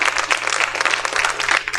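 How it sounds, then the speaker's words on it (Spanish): A church congregation applauding together, a dense steady patter of many hands clapping at close range for a couple of seconds. "Un aplauso. Un aplauso."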